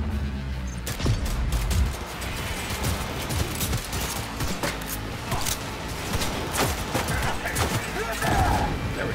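Rapid gunfire in the video game Cyberpunk 2077: a dense, continuous barrage of loud shots and impacts over busy in-game noise, sustained throughout with a few heavier bursts.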